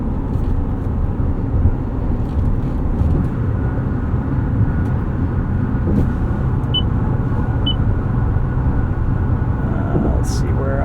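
A Toyota RAV4 Woodland plug-in hybrid accelerating hard from the driver's seat, a steady loud drone of engine and road noise inside the cabin that holds for the whole stretch, with a person talking over it.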